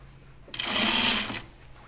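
A close sewing machine runs one short, even burst of under a second while stitching a uniform tunic, with quiet room tone before and after.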